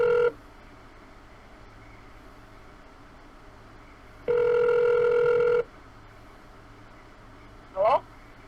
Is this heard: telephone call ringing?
yes